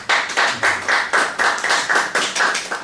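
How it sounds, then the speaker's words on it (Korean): A church congregation marking its third anniversary claps in unison, about a dozen crisp, evenly spaced claps in a quick steady rhythm, loud and close with no talk over them. "우리 하나님께 영광의 박수를 한번 올려드릴까요?"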